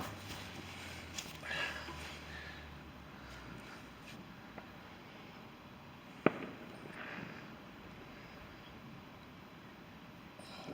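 Bonfire night fireworks go off at close range. One sharp, loud crack stands out partway through, with fainter pops and crackles around it over a low outdoor background.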